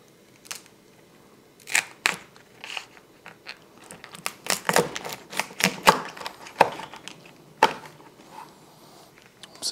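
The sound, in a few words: knife cutting a lobster in half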